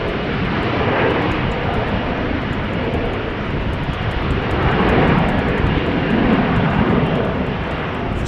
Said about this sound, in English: Regular Embraer 190 by the looks of it.